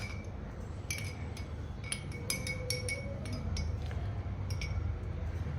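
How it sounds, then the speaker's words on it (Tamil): A spoon clinks against a glass while a drink is being mixed, with repeated light, bright taps in irregular clusters over a low background hum. "நல்லா மிக்ஸ் பண்ணி விட்டுக்கலாம்"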